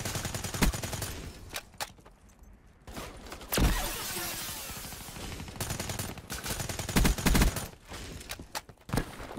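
Video game gunfire in bursts: sharp rapid shots and short automatic strings, with a few louder cracks standing out, spread across the stretch with brief pauses between volleys.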